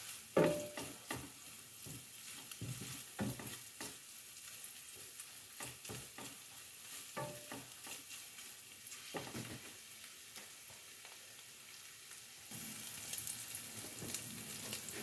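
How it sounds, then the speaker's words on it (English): Smoked sausage frying in a pan, a quiet continuous sizzle broken by repeated stirring clicks and scrapes, with a brighter burst of crackle near the end. "Start by cooking up your smoked sausage."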